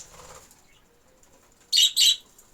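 Budgerigars in a free-range aviary burst into flight with two quick, loud wing-flapping flurries close by, after a quiet stretch with faint background sound.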